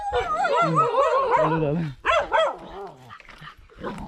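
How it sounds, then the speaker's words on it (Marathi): Dogs barking and yelping excitedly nearby, a rapid burst of overlapping barks followed by a few sharper, scattered yips. "तिथले कुत्री लगेच भुकायला लागल्यात ते बघा"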